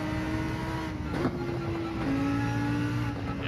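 A Porsche race car engine drones in a racing video game, a steady sustained tone that shifts pitch slightly as the car takes a corner, fairly loud and without talk.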